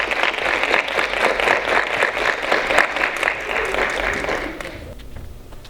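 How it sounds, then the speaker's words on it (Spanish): An audience at a live storytelling performance bursts into loud, sustained applause, dense clapping that holds steady and then fades out toward the end. "Le damos un fuerte aplauso."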